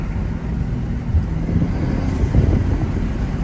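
An Audi RS5 turbo engine with an aftermarket air intake drones with a deep, steady rumble and a faint rising hum, heard close up without any talking.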